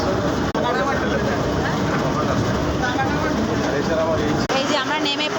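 A Kolkata Metro train rolls through the station at Shyambazar with a dense, continuous rumble and rattle. Voices and crowd chatter blend into the noise throughout.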